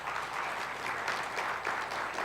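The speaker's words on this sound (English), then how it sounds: "I didn't ask them to applaud" Warm applause from a church congregation, many hands clapping in a dense, steady patter at moderate loudness throughout the short stretch, with no speech on top.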